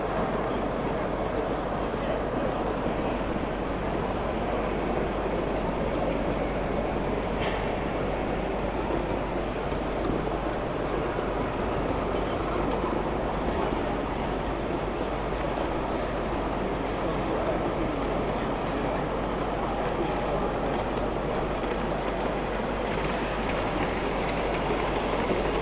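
A model railway locomotive runs on a large, scenic exhibition layout at a model railway show, a steady rolling rumble that continues throughout over constant hall background noise.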